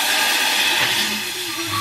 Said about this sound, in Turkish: Şimdi suyu ilave ediyorum.